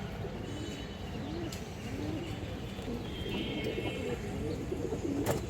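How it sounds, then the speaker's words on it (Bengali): Pigeons of red khaki and other breeds coo and rustle in a loft, a continuous low murmur of several birds close by with occasional soft flutters. "দেখছেন কত সুন্দর কবুতর"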